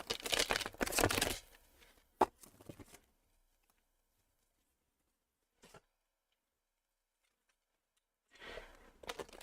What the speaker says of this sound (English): I am going to shuffle these cards and we're going to get into this reading